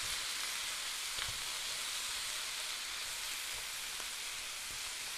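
Vegetables sizzle in a stir fry pan with a steady, even hiss that stays at one level throughout, with no voices.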